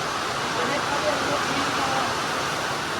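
Very heavy rain pours down with flowing water, a dense, steady roar filling the whole clip at close range without letup.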